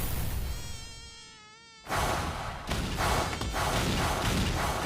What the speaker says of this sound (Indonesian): kemudian diganggu oleh seekor nyamuk